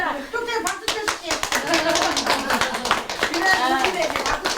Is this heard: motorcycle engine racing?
no